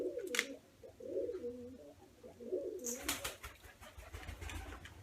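Pigeons coo close by, several low bubbling calls that come and go over a steady outdoor background with some rustling and clatter.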